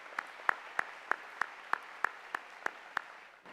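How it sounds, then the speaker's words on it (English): Applause from a graduation audience at a high school ceremony comes through as about ten evenly spaced, distinct claps, like one or a few people clapping close by, with no talk. "let's have another round of applause."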